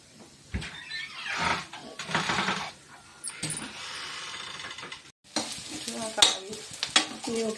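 A tadka sizzles in a pan for paneer kachori stuffing while a spoon stirs it, giving a steady frying crackle broken by scraping strokes and clatter, close by, with faint voices now and then.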